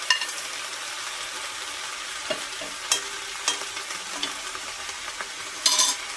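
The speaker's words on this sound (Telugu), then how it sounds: "ఇప్పుడు ఈ గోంగూరలో మనం ఈ పచ్చిమిర్చి వేసేసుకుందాం" Green chillies frying with gongura leaves in a pan, a steady loud sizzle with occasional stirring scrapes and a brief clatter near the end, no talk.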